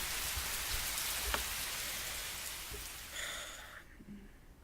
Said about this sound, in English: Overhead, the rain had begun to intensify.